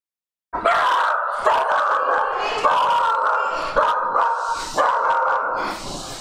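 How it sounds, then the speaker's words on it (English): Indoors, a dog barks loudly and close, in a rapid, frantic series of about six or seven barks that last several seconds without pause. "we just got pizza and the dog's going nuts"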